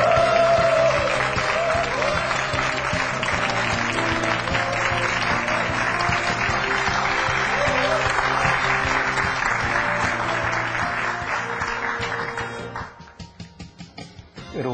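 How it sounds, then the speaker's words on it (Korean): Warm applause from a lecture audience greeting a guest speaker, loud and steady for about twelve seconds before thinning out and fading, with a faint musical undertone beneath the clapping. "여러분, 이현호 연구위원을 힘찬 박수로 맞아주십시오"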